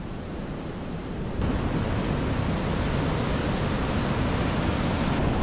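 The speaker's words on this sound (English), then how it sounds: "Massive cyclone swell coming off the ocean here." Heavy ocean surf from a massive cyclone swell washes in on Moreton Island, a dense, continuous roar of breaking waves that swells louder partway through, with no voices.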